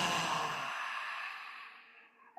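A deep, breathy exhale during a qi gong healing-sound exercise: one long, close whoosh of breath that starts strong and slowly fades over about two seconds.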